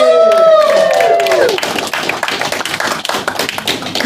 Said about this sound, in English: give a big round of applause for Socrates!